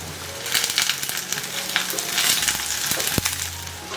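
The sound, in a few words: stir-frying ginger, garlic, mushrooms and onion in clay pot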